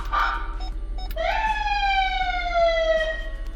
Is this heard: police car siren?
yes